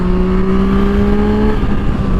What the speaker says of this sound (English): this engine really just encourages you to twist the throttle more and more